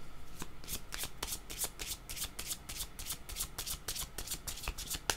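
Tarot cards are shuffled in steady rapid flicks, a continuous close papery riffle with regular crisp bursts throughout, fairly quiet and with no talk over it.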